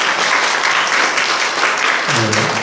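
Church congregation applauding during a Sunday service, a steady dense clatter of many hands clapping for the full length, with a low voice briefly starting near the end.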